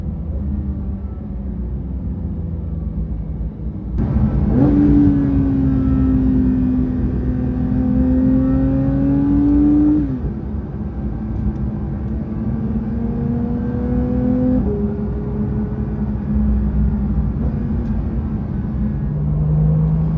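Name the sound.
sports car engine accelerating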